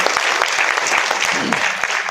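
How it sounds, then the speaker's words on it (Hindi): Loud, dense applause from an audience at a national party convention in Mumbai welcoming a speaker, a continuous close roar of clapping with faint voices beneath. "जोरदार ताली बजा करके स्वागत करिए"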